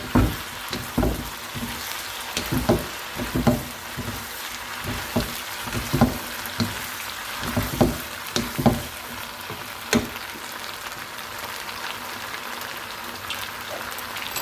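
Pepper chicken with ketchup and chili sauce is stirred in a pan, giving irregular spoon knocks and scrapes over a soft, steady sizzle. The sound is close and moderately loud, and no one speaks.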